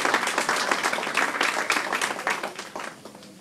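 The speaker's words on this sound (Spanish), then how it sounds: "Merecen un aplauso" Wedding guests break into applause, a burst of close hand clapping that fades toward the end.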